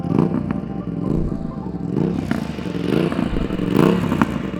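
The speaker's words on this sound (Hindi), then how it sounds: "ये जो तुम साउंड सुन रहे हो ये थ्रॉटल ब्लिप करने की साउंड है" Motorcycle engine blipping its throttle ahead of a downshift, heard as close, loud rising revs that swell and fall back in quick pulses over a steady mechanical clatter.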